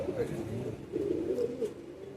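A male Madrasi high flying pigeon in a Kolkata loft coos, with rolling, throaty calls repeating close up for a couple of seconds under light background noise.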